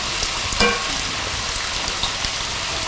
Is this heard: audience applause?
no